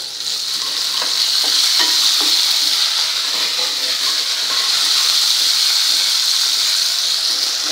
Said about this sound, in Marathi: बघा मस्त तेलात परततायत मिरची आणि कढीपत्ता